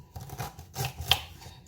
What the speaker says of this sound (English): So now I'm going to chop some of our ingredients